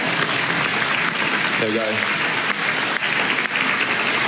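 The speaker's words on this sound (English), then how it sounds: "A round of applause if..." A large crowd at the Brownlow Medal awards night keeps up loud, steady applause, with a man's brief remark briefly cutting through the clapping.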